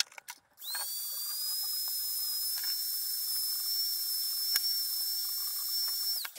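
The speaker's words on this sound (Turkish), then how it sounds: "Ben gördüğünüz gibi ara ara yavaş yavaş dokundurarak bu pillerin üzerindeki punta izlerini yok ettim" Small high-pitched rotary grinder whining steadily as it removes old spot-weld marks from used battery cells, a close continuous whine with faint touches and scrapes, starting after a brief click and stopping abruptly.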